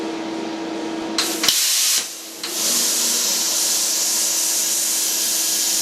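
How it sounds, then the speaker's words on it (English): Plasma cutter making a test cut in 1.2 mm thin steel plate: a loud close hiss of the torch that cuts out briefly, then a pop as the arc restarts and a steady roaring hiss that carries on to the end. "The first thing I'm going to do is a test cut, just to make sure I've got the machine set up nicely to cut the"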